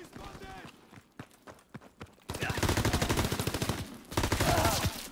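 Rapid automatic gunfire rings out in a World War II first-person shooter team deathmatch, with sparse scattered shots followed by dense, loud bursts while a player talks throughout.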